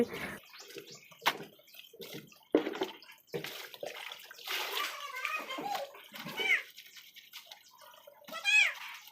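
Clothes washed by hand in water give off splashing, sloshing and dripping in uneven bursts at close range, with a voice and other talk now and then.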